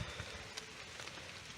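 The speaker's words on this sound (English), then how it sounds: "It is raining right now." Rain falls in woodland around abandoned structures in Knoxville, Tennessee, as a soft, continuous patter with a few distinct drops. It is quiet and distant, and no one speaks.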